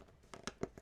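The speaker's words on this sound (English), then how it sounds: "now's the time for the most satisfying of painting your RC body, is peeling off this film" Protective film being peeled off a freshly custom-painted Kyosho Beetle RC car body, heard as four or five quick crinkly tearing bursts, close and fairly quiet, with no talking.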